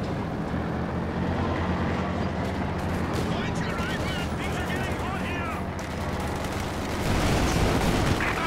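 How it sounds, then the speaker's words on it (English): Company of Heroes 2 battle with gunfire and explosions, including a frag grenade blast, under dense rumbling combat noise while a commentator talks throughout. "Good hit there, frag grenade thrown."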